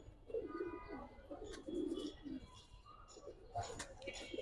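Chocolate Dom pigeons of an Indian breed coo softly in low, rolling phrases, close but faint, with a voice speaking intermittently over them.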